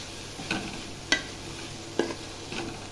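Tomato and capsicum for a macaroni dish being stirred in a frying pan, a faint low sizzle with a handful of distinct ladle clicks against the pan, close and quiet, no voices.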